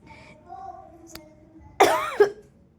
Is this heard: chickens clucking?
no